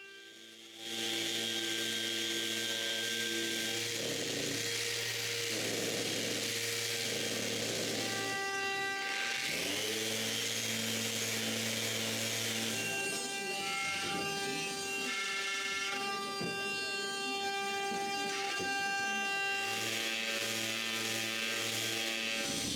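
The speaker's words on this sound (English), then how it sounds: "The CNC finishes the back of the handles before I'm done with the drawers." A CNC router cutting the backs of wooden drawer handles, its spindle holding steady whining tones that shift in pitch as the cut changes, continuous and close with brief dips between passes.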